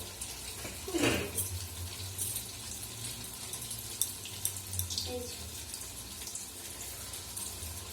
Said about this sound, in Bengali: হাত ধুয়ে নিই।